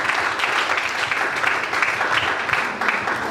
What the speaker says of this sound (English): Another big round of applause for this six gentlemen